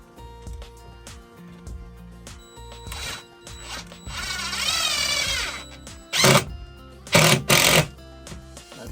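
A power drill drives a screw at an angle into a wall stud while fixing a collapsed shelf: stop-start whirring bursts of the drill motor, with a longer grinding run and several short loud spurts near the end.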